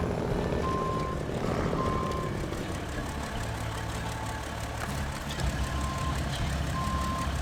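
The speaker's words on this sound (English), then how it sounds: "And then I'll just put the truck a little sideways." A reversing truck sounds its backup alarm in evenly spaced single beeps over a steady, loud engine rumble.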